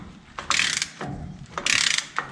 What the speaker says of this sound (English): JT is gonna spin the hub as we're torquing this down so the bearing and the seal seat evenly.